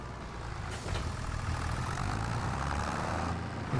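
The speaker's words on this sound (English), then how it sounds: "One thing about this larger Ford tractor," Low steady rumble of a large Ford tractor engine in the Farming Simulator 25 video game, a heavy diesel drone that holds constant with a brief hiss partway through, no voices.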